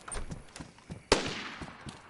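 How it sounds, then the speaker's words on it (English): Gunfire in the survival video game DayZ, heard as a sharp loud crack after a patter of fainter distant pops, with a short ringing tail. "Ooh, there's gunshots everywhere."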